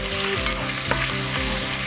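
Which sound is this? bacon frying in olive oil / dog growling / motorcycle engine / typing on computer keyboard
bacon frying in olive oil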